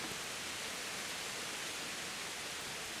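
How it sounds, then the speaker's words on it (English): Steady, even hiss of rain in the video game Kingdom Come: Deliverance, uniform and unbroken, like a constant downpour heard from indoors. "Oh, it's raining. Let's close the door."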